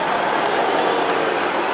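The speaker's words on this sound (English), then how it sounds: "the slight boo goes up around the crowd" Crowd at a rugby match at Twickenham, England versus Australia, letting out a low, sustained boo that fills the whole clip as a dense, steady roar.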